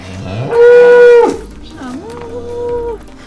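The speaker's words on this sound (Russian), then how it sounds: "Но настоящие коровы тоже всегда под боком." Cows mooing on a dairy farm, one loud close drawn-out moo followed by a second softer, rising moo, with faint background noise.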